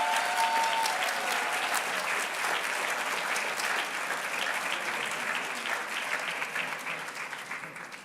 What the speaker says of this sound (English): Let's give all the awardees a round of applause one more time